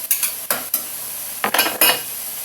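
Sisig with three eggs is stirred in a hot, sizzling pan, a spatula scraping in several short, distinct strokes over a continuous fry hiss, heard up close with no talk.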